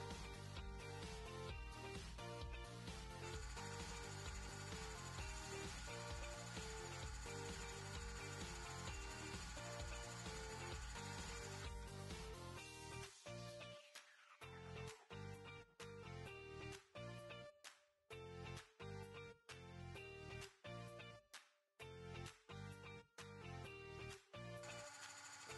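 A Cool Maker Sew Cool toy sewing machine stitches fabric seams with a faint, steady mechanical whirring that turns into choppy stop-start bursts in the second half. No voices are heard.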